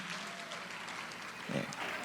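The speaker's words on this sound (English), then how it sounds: "let's give them a round of applause" An audience at a senior women's pageant in Washington DC applauds two escorts, a steady wash of clapping with a brief louder burst near the end.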